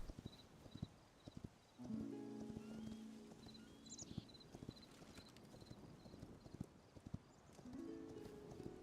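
Hooves clip-clop steadily beneath an in-game horse as it walks in Hytale, the rhythmic steps joined by sustained game tones, a brief whinny and soft ambient chirps, with no talk.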